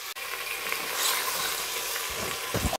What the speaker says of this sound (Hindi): अब इसके हम शामिल कर देंगे अपना मटन